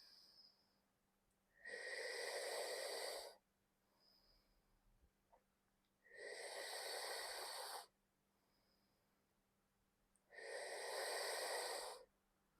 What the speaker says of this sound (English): Inhaling through the mouth, exhaling through the nose.